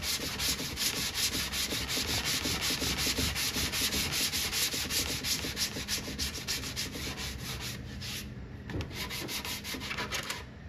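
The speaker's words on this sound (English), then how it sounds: "I gotta sand that." The edge of a wooden Bubbles arcade cabinet is sanded by hand in steady, rapid back-and-forth strokes, close and continuous, with a short pause near the end before a few final passes.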